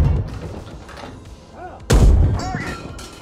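A tank cannon fires in the PC game Gunner HEAT, one sharp, heavy blast with a booming tail, following quieter low battlefield rumble, close and loud.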